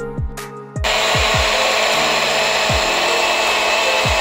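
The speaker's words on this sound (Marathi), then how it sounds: "ते आता थंड झाल्यावरती आपण एकदा मिक्सरला वाटून घेऊ" A mixer grinder whirs steadily as it grinds a roasted masala paste for a Malvani-style wet cashew curry, its loud continuous motor drone starting abruptly after a brief lull and running on evenly, with a few soft knocks underneath.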